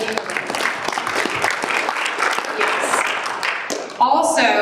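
Applause from an audience in a room at a political campaign event for a US Senate candidate in Alaska, a busy layered patter of many hands, moderately loud, continuing for several seconds with a brief sharper change near the end.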